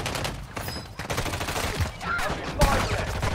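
Bursts of gunfire from the shooter game Warzone Mobile come in dense, rapid volleys mixed with game effects, loud and continuous with a sharp impact near the end.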